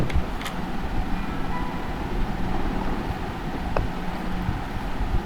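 An electric fan picked up on a call microphone produces a steady, rushing broadband hum that runs unbroken through the whole stretch, with no talk.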